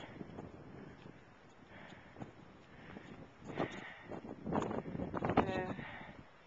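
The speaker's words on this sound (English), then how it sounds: "as you can hear, the wind's blowing pretty good" Wind gusting around a lakeside cottage in January, a low, uneven rushing that swells and fades over the microphone, growing stronger and more buffeting toward the end.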